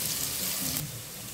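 Onions and dried chili sizzling in hot oil as a baghar tempering for haleem, a brief, steady, close frying hiss.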